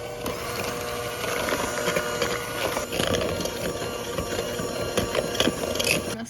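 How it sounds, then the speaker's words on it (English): Batter ingredients for aebleskiver being whisked in a large bowl, a fast, steady scraping and clinking of whisk against the bowl that carries on throughout, close and fairly loud, with no talking. "Whisk to combine."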